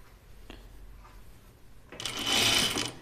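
A sewing machine stitches the hem of a shirtdress, starting after a quiet stretch with a brief tap, then running in a loud, close burst through the final second.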